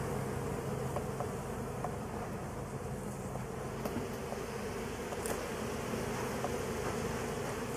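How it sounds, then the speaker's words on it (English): Honey bees buzz in an open hive during an inspection, a dense, steady drone that is close and continuous throughout, with no voices. "Yeah, they just are chewing that one little bee up."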